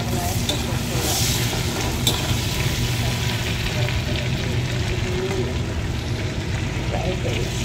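Kachuri frying in oil in a kadai, a steady dense sizzle and bubbling running throughout, loud and close with a faint clink or two.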